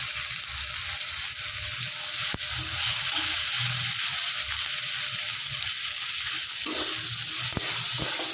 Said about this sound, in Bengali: লবণ আর চিনিটা দিয়ে ভালো করে নেড়ে নিচ্ছে।